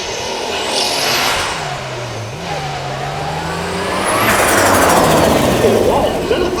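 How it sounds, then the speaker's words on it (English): A turbocharged Stratos-style car with a turbocharged Volkswagen 2.7 litre V6 runs at the Beaulieu Supercar Weekend, its loud engine sweeping up and down in pitch as it drives past, with a turbo flutter between revs. "send a turbo flutter there"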